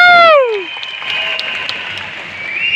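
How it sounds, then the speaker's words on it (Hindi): Audience applause at a stage event, a broad clapping wash that swells after a voice trails off and continues at moderate loudness, rising slightly toward the end. "इस पे भी ताली मार सकते"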